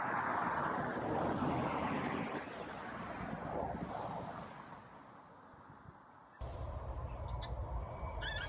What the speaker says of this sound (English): I'm still plagued by planes flying over, and I'm on the Cheshire Plains.